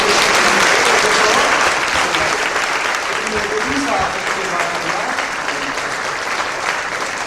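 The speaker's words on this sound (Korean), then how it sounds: "박수" Sustained applause from a church congregation at an elder ordination service, steady and dense throughout, fading slightly toward the end.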